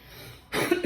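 A single short throat clearing, close and fairly loud, after a moment of quiet room tone.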